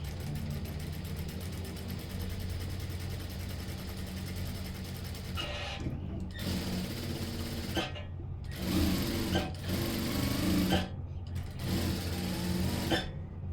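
A sewing machine stitches a tack and then a seam on a kurti side pocket, first running in one long continuous whir, then in a series of short stitching bursts split by brief pauses.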